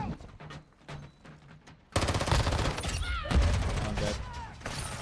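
Bursts of automatic weapon fire in Warzone Mobile, sparse shots at first, then heavy, loud continuous firing with strong recoil, and battlefield sounds behind.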